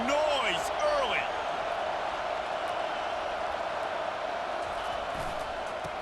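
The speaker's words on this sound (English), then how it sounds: "This crowd bringing the energy and noise early." Stadium crowd in the video game EA Sports College Football 25 roars as a steady, dense wash throughout, with a few brief shouts rising near the start.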